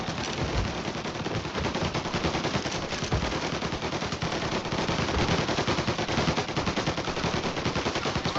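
Rapid automatic gunfire from a video game shooter rattles on without pause, dense and loud throughout, burst after burst blending into a continuous stream of shots.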